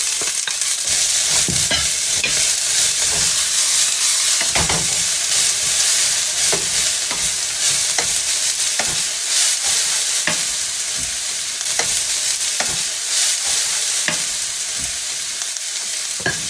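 Cabbage stir-frying in hot oil with garlic, a steady loud sizzle with repeated clicks and scrapes of a spatula stirring in the pan throughout, no voices.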